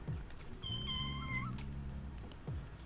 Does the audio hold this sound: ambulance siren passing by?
no